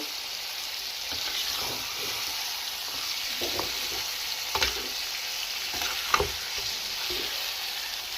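Chicken pieces in biryani masala are turned over in a pot, giving a steady oily sizzle with soft scrapes and a few sharp spoon-on-metal clinks, close and fairly quiet, with no talking.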